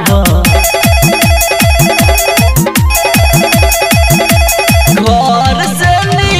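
A loud electronic telephone ringtone plays inside a Bhojpuri song, its rapid repeating melodic pattern pulsing over a steady driving beat without pause.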